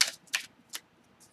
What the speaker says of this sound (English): I am going to shuffle the cards